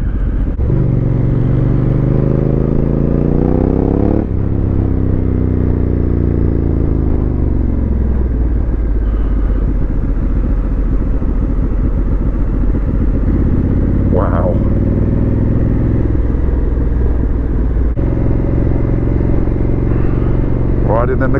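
A Honda CRF1100L motorcycle ridden off road on a dirt mountain climb, its engine droning loud and steady throughout with rises and falls in pitch as the rider works the throttle, wind rumble mixed in.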